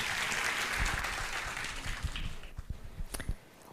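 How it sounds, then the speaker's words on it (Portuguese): Audience applause at a live talk event, a steady wash of clapping that thins toward the end, with a few louder individual claps standing out near the close. "Não precisa mais economizar, pode gastar as palmas agora."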